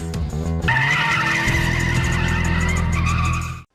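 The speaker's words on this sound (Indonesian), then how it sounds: "There's a car coming. It's the 86!" Toyota AE86 racing in an Initial D anime scene, arriving with a sharp tire screech and then a loud sustained engine roar with squealing tires that cuts off abruptly at the end.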